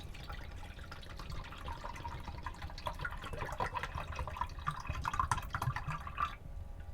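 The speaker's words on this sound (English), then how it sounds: "literally all you do, pour it in the cup" Cold brew coffee trickles and splashes steadily into a cup, a soft continuous pour with small drips, fairly close and quiet.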